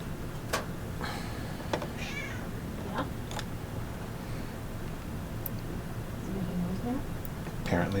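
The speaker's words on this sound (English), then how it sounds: "apparently the cat needs attention." A house cat meows for attention in a sculpting studio, several short meows scattered across the stretch against low room noise and faint talk.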